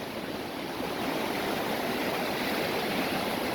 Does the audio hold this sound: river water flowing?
yes